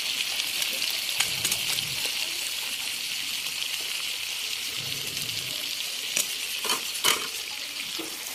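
Shrimp fry in butter with a constant bright sizzle, close and even, with occasional soft stirring scrapes and a few sharper spatter pops near the end.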